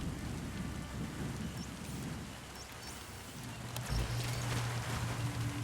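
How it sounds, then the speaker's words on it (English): Steady rain hisses with a low rumble of thunder rolling in midway through a rainy scene in the Metal Gear Solid V video game, dense and continuous with no talking. "And it's raining."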